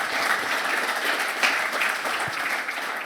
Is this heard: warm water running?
no